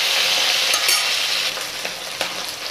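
Labeo bata fish fries in oil in an iron wok, a steady close sizzle with a few sharper crackles and spatters, loud and continuous with no talking.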